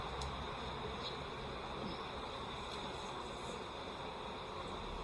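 Honey bees buzz steadily around a brood frame lifted from a hive during a split, a dense, continuous droning hum with no breaks and no one speaking.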